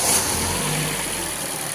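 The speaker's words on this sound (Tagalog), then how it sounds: "hantayin natin iinit yung makina" A Ford Fiesta with an overheating problem idles after being started, a steady close engine drone with a brief rev at the start that settles into an even hum.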